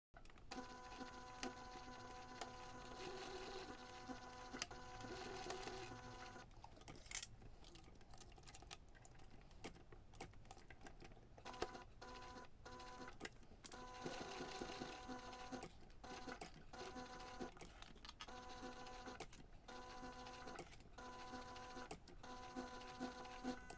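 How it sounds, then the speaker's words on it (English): A sewing machine top-stitching around a fabric connector on a webbing strap, running with a steady fast mechanical whir and needle clatter, close and continuous, with a couple of brief pauses. "we're going to take this to the machine and we're going to top stitch around the connector"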